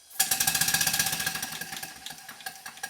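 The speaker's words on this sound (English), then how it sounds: "I'm going to stop talking now and just run the engine to the end of the video." A small showman's steam engine runs on its own, its regular rapid chuffing beats starting abruptly and carrying on close and loud with a slight rattle, gradually easing a little in strength toward the end.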